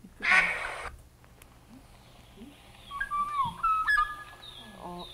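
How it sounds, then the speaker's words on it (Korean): Recorded song of a Korean golden oriole plays back with several clear whistled, fluting phrases in the second half, following a short noisy burst at the start, with no talking over it. "꾀꼬리예요, 이게."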